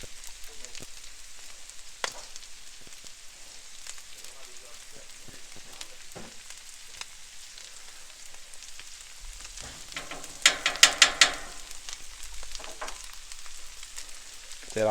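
Egg roll in a bowl sizzles steadily on a Blackstone griddle while being stirred, with a constant frying hiss, scattered light scrapes and a brief burst of sharper clatter near the end.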